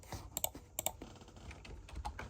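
Close, quiet computer keyboard typing and mouse clicking come in short bursts of crisp taps, with a brief double click near the start and softer keystrokes after it.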